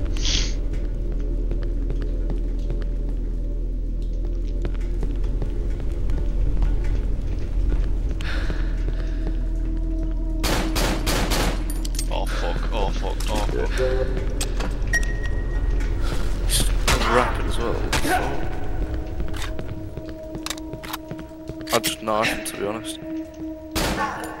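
Bursts of gunfire from the horror video game Cry of Fear, sharp broadband cracks clustered mostly in the middle stretch over a steady low hum, with people talking throughout.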